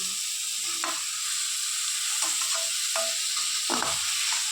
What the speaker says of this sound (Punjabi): ਅਸੀਂ ਬਰਾਊਨ ਕਰਾਂਗੇ ਪਿਆਜ਼ ਨੂੰ ਸਾਰੀਆਂ ਚੀਜ਼ਾਂ ਨੂੰ ਬਰਾਊਨ ਜਿਹਾ ਹੋ ਜਾਣਾ